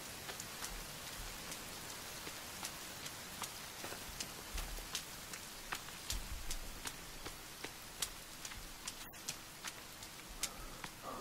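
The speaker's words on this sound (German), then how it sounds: "Ah, es regnet, sehr gut." Rain falls steadily in the survival video game The Forest, a constant close patter of drops on surfaces at low level, with occasional louder splashes and no speech.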